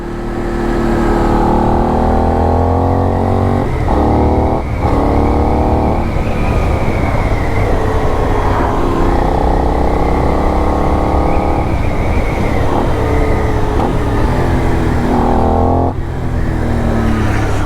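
Benelli 752S motorcycle engine pulling hard under acceleration, a loud continuous drone that climbs in pitch through the gears, with brief dips at shifts, heard close and alone for the full length.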